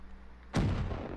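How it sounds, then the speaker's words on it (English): In Black Ops III, a trip mine is shot and explodes: a single sudden, loud blast with a sharp attack and a rumbling tail that fades, heard alone with no talk. "Oh, he just shot my trip mine."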